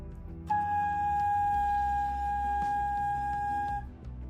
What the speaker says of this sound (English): Take your head joint and try blowing across the hole like you would on a soda bottle.